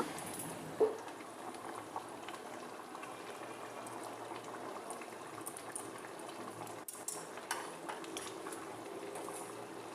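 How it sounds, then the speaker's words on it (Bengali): A cooking mixture bubbling at a boil in a pan, a soft, steady simmering burble heard close but quietly, with a few light clicks of a utensil or pot here and there. "এবার আমি আরও একটু ফুটিয়ে নেব"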